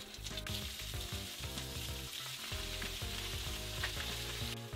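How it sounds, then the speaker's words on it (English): Seasoned fish fillets frying in a pan give a steady, close hiss of sizzling oil that runs throughout beneath background music. "Fish is cooking."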